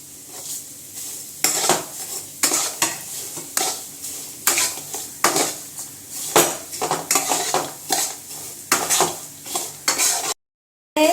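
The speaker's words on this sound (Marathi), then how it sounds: "यातच आपण या शेवया घालणार आहोत आणि" Vermicelli roasting with cashews and almonds in a pan for sheer khurma, stirred with a metal spoon in repeated scraping and clinking strokes over a soft sizzle, close and clear with no talking.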